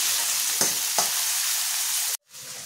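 Chopped onion and tomato frying in a pan for a drumstick-pod vegetable dish, a steady broadband sizzle with a couple of soft stir clicks, ending abruptly with a brief drop to silence.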